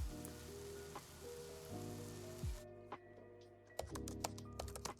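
Keyboard typing ambience from the Spirit City: Lofi Sessions game, a steady patter of soft clicks over a hushed, rain-like background, with a brief low swoop midway and a quieter, sparser stretch of sharper taps toward the end.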